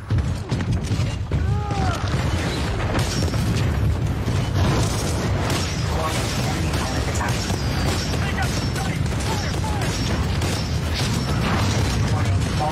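A Titan drops in during a Titanfall match: loud mechanical rumbling and booming impacts keep up a dense, continuous din, with metallic clanks and a brief whine early on.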